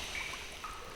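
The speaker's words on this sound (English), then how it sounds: "Listen to the water." Soft, steady flowing water fills the short stretch, a continuous gentle trickle with no speech and a faint brighter ripple running over it.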